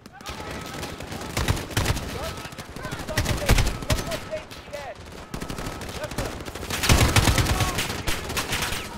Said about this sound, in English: Bro, where am I getting shot from?